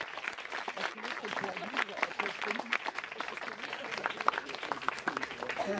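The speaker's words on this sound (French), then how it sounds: "S'il vous plaît, applaudissements." An outdoor festival theatre audience applauds to decide a contest between two candidates, with lively, uneven clapping and some cheering beneath a voice speaking over the crowd.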